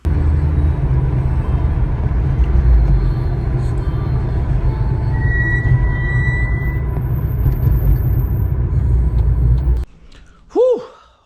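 A Mitsubishi Evo 5 driving, with a loud steady road and engine rumble and a sustained high brake squeal partway through, ending abruptly before a brief burst of another sound.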